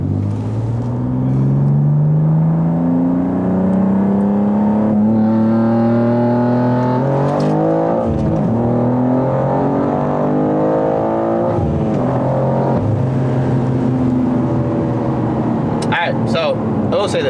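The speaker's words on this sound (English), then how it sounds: "we're gonna try anti-lag second gear" A BMW G87 M2 pulls hard in second gear with anti-lag, its engine note rising steadily and loudly through the rev range, then dropping in pitch and climbing again, with crackles near the end and a person speaking over it.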